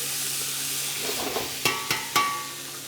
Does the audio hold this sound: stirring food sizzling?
yes